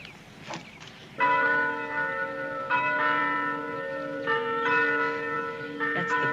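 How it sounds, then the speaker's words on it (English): A mission chapel bell rings in clear, resonant strokes, each new strike swelling over the last as the tones hang and overlap, with a couple of sharp knocks before the first strike and between the later ones. "That's the bell from the mission chapel."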